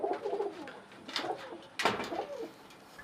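Domestic pigeons coo close by in soft, low rolling phrases, with one louder burst of cooing in the second half.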